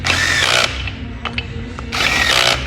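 A low-torque power driver runs fastening parts on an SRT Hemi engine during assembly, two loud whirring bursts separated by a pause with light clicks and handling noises.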